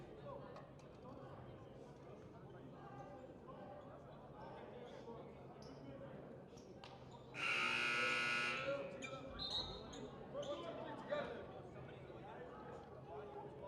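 Loud basketball game buzzer blaring for about two seconds at a boys high school basketball game, Lynn Classical versus Chelsea, sounding over steady crowd noise and chatter in a gym.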